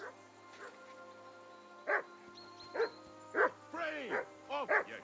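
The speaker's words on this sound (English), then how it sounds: "I assume you can hear that damn dog of yours barking." A dog in the game Kingdom Come Deliverance 2 lets out a series of short, yipping barks and whimpers at a moderate distance, irregularly spaced and fairly quiet.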